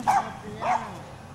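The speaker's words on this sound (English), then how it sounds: "Bark at Laura" A dog gives two quick, close barks, yippy in tone, with faint room noise between them.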